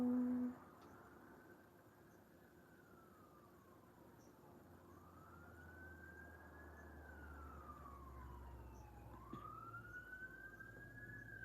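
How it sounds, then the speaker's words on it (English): A distant siren wails, slowly rising and falling as it passes by, faint against a low background rumble. "There's a siren going by and my dog's howling."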